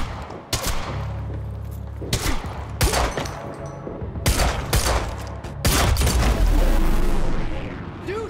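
Loud, close gunfire from Quantum Break comes in repeated bursts of sharp automatic shots with booming impacts, ending in a longer sustained volley.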